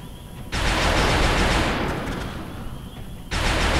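Rapid-fire gunshots in the video game XCOM: War Within, with loud, dense bursts of gunfire that fill the clip, fade slightly, then break off and start up again near the end.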